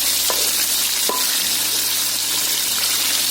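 Fish sizzles loudly in a hot pan, the steady frying hiss broken by a couple of sharp scrapes as a spatula nudges it.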